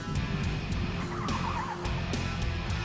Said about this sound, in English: The 4-cylinder motor responds well and enjoys the high RPMs